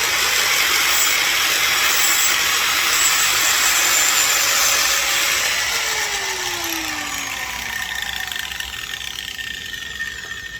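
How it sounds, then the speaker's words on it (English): An angle grinder working a very thin Japanese kitchen knife blade, a loud continuous hissing, whining grind that holds steady for most of the clip and eases slightly toward the end. "this is a very thin piece of metal, so it just grinds off super easily"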